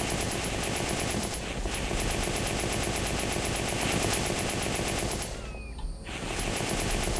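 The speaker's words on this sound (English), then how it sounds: "Machine gun." Machine gun fire in the video game The Infected, a rapid, unbroken stream of shots rattling on for several seconds with a brief dip near the end, loud and steady.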